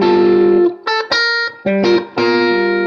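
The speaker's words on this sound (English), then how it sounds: "a standard 9 chord would sound like this" Electric guitar with effects and distortion sounding a standard 9 chord, struck and rung out in several bursts with brief gaps between, loud and sustained with no talk.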